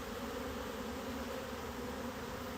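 Honey bees hum in a steady, close drone over an open hive during an inspection, dense and continuous with no talk.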